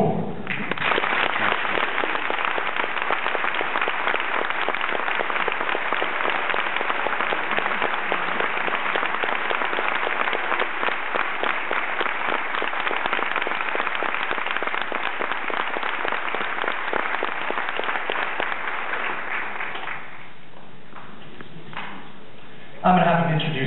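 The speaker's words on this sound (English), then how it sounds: "Hardest round of applause for Master Alex Dorr." A live audience gives a sustained, dense round of applause at a music performance, loud and steady for about twenty seconds before dropping off near the end.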